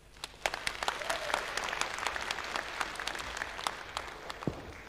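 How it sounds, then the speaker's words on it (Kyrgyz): Concert audience applauding a performer, a lively patter of many hands clapping steadily throughout at moderate distance, with no voices over it. "ар бир аткаруучуга жакшылап кол чаап, өзүңүздөрдүн бааңыздарды берип туруңуздар"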